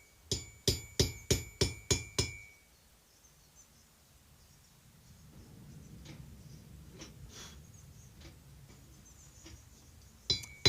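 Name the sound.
hammer peening a forged bowl lathe hook on anvil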